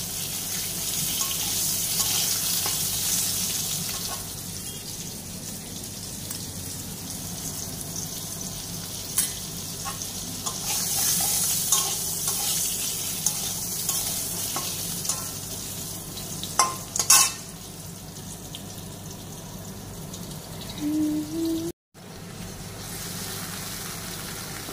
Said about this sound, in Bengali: তারপরে ভাজা করছি।